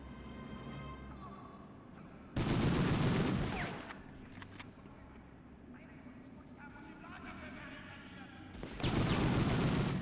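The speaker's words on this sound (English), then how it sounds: "I heard a grenade" A grenade explosion and gunfire in the Medal of Honor video game, with two loud sudden bursts of blast noise separated by quieter stretches of scattered shots and game sounds.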